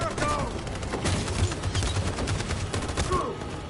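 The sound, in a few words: covering gunfire in Detroit: Become Human video game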